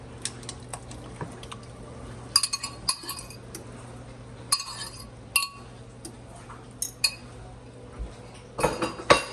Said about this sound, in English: I'll bust what yolks I can, and then we'll just scramble them as best as we can